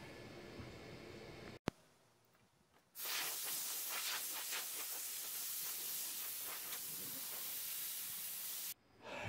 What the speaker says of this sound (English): Blew all that down with compressed air and a clean cloth.